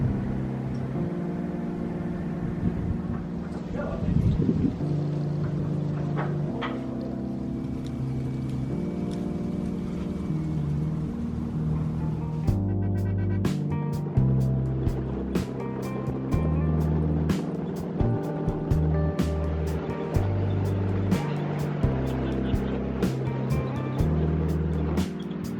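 A Toyota FJ out on a test drive near Taif, Saudi Arabia, with a steady engine drone and road rumble from inside the cabin and scattered sharp clicks and rattles over it.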